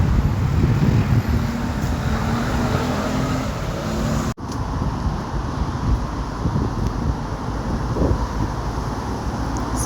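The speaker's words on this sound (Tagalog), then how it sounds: "Sarap ng hangin." A breeze blowing outdoors among flowers and plants buffets the microphone with steady rumbling wind noise, loud and close throughout, with one brief dropout partway through.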